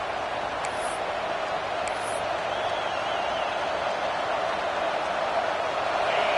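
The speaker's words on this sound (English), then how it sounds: "The roar of the crowd trying to fuel this defense to keep them pinned in their own end" A football stadium crowd roars continuously as the defense holds, a dense sustained wall of noise with a couple of brief whistles, steady and loud throughout.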